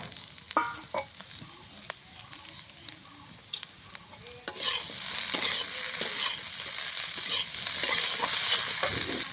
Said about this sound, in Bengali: এখন ভেজে রাখা ভেন্ডিগুলো দিয়ে দেবো।